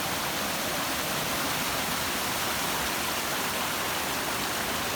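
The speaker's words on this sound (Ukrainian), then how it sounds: "А чим ближче ми наближаємося до могутнього потоку, тим гучніше стає його голос." Water rushes down in a steady, even roar from a mountain waterfall in the Carpathians, constant hiss with no pauses or other sounds.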